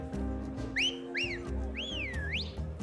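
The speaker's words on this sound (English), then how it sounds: "The customers start wolf whistling and shouting it's her." Customers in a tavern scene in the video game Octopath Traveler wolf whistle as Primrose appears to dance, with several rising and swooping whistles over a steady low background murmur and music.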